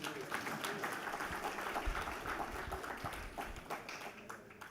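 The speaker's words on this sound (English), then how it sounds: "Another round of applause" Scattered applause from a small audience, a dense patter of clapping heard at some distance, with faint voices underneath.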